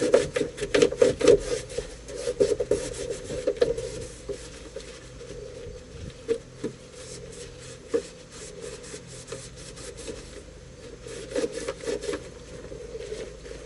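A towel wipes grime off the dashboard of a Duramax truck in close, repeated rubbing strokes. The cloth scuffs and drags quietly in an uneven rhythm, with no voices.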